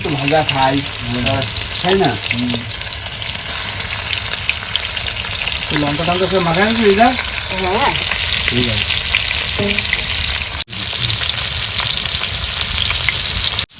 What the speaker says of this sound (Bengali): ভাজা হবে দাও তা ভাজা করে দাও আমরা তেল গরম হয়ে গেছে